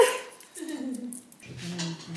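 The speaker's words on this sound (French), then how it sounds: "Oula, baston de chien." Dogs tussle in a playful scrap at a Swiss chalet, giving soft yips, whines and short growly barks at close range over about two seconds, with no talk.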